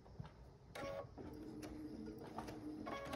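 Sewing machine stitching a few stitches into quilt binding made from 2.5-inch strips, heard as short mechanical whirring bursts with pauses in between, close by and moderately quiet.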